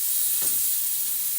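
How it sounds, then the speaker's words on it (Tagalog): Mushrooms sautéing in a pan for a white pasta dish give a steady, faint sizzle and hiss, with a brief stir or scrape partway through and no talking. "Gisang-gisa na mga mahal ko."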